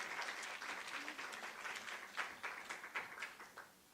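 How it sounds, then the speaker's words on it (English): Audience clapping at an International Women's Day round table event, a warm burst of many hands applauding together, fairly soft and distant, swelling in places before tapering off at the end. "A warm round of applause for Professor Kgorong."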